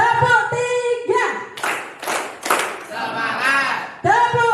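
A ninth-grade class claps together in a classroom game, three sharp unison claps in quick succession, set between a teacher's spoken prompts and students' voices.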